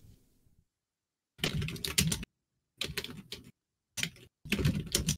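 Loud, deliberate typing on a computer keyboard in bursts of rapid clattering keystrokes separated by short silent pauses, close and clear with no talking.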